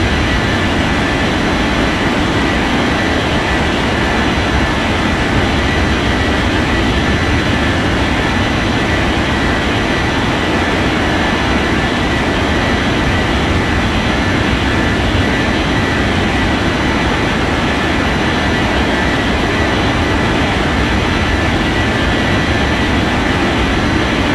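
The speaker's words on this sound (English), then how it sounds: "Japan Air 4587, ready for takeoff runway 14" A jet airliner's engines roar steadily during takeoff in an air traffic control game, a loud, continuous broadband rumble that stays level throughout with no talking.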